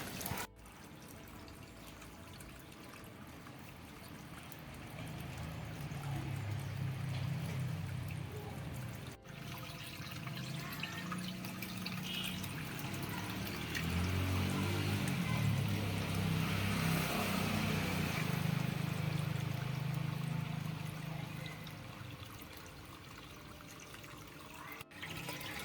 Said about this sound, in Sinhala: අපි මේකේ වතුර ටිකක් දාගමු.